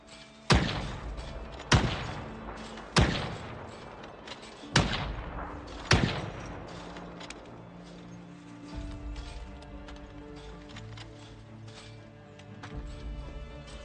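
Gunfire from shooting zombies in Project Zomboid: five sharp, booming shots spaced roughly a second apart, each trailing off into a reverberant tail, then quieter game ambience with no talking.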